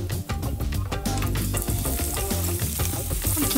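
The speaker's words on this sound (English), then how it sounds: "Fry the onions until they're light golden in color." Sliced onions frying in a pan give a steady, loud sizzle with crackling bursts, with a continuous busy texture throughout and no talking.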